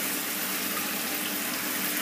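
Water is poured into a cooking pot of lamb, a steady broadband splashing gush that carries on unchanged for the whole clip, close by, with no talking.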